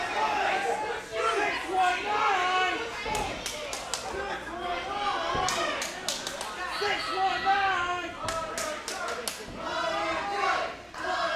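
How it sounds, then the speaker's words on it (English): Wrestling crowd at an Action Clash show cheering and rallying behind Hunter Drake, a loud continuous roar of voices with sharp clapping bursts and thuds scattered throughout. "The crowd now rallying behind Hunter Drake"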